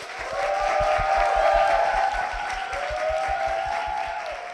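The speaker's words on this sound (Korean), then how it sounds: "박수로 모시겠습니다" A church audience at a Christian school event claps warmly to welcome a guest, steady dense applause with some rhythmic clapping underneath, sustained at moderate loudness throughout.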